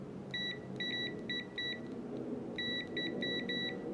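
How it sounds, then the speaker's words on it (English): An Aneng 8009 multimeter in continuity mode gives bursts of short, shrill electronic beeps, several in quick succession, then a pause and another cluster, over a low background rumble. "I just switched to the continuity tester."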